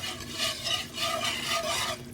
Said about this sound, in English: Your oil is boiling, essentially,